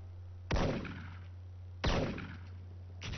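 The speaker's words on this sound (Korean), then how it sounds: "어디서 자꾸 총소리가 나는데." Two sharp, loud gunshots in an esports video game match, evenly spaced about a second and a half apart, each with a decaying tail over a steady low hum, with a third shot starting at the end.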